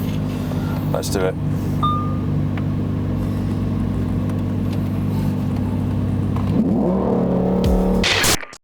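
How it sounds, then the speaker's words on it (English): A Lamborghini Huracán Performante sits idling on a straight road, then launches hard, its engine note climbing sharply through a rapid surge in revs that ends abruptly; a voice speaks briefly just before the launch. "Right, everyone, we're going to launch a Huracán."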